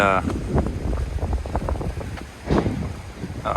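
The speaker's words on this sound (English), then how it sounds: "The wind is really blowing. May not even be able to hear me." Strong wind at Topsail Beach, North Carolina, roars and buffets the microphone in heavy gusts, with a voice talking partly buried beneath it.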